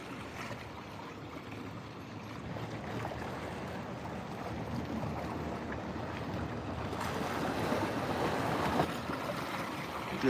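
Boats pass through Haulover Inlet amid washing waves, a broad steady rush of water and engine drone with wind buffeting the microphone, growing gradually louder toward the end.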